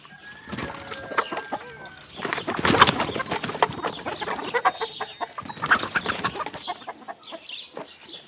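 A hen clucking amid a busy farmyard chorus of other birds, with overlapping clucks and coos that swell in the middle and continue steadily without any talking.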